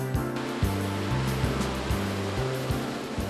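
Ocean waves break at Jaco beach in Costa Rica with a continuous surf wash and low rumble. Regular thumping pulses repeat roughly every 0.6 seconds beneath the surf, and no voices are heard.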